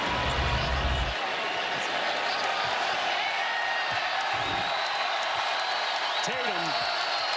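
A basketball arena crowd cheers and applauds loudly after a Celtics win, a dense steady roar with whistles and whoops, a commentator talking over it.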